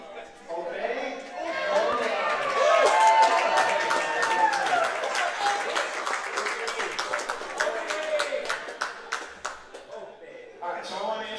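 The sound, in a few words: applause for Team Opie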